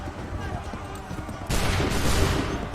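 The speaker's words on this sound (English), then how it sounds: "Wait for the signal. Open fire." Musket volley gunfire in the video game Assassin's Creed III: a sudden loud burst of massed shots halfway through that rolls on as a dense, sustained crackle over a steady battle din.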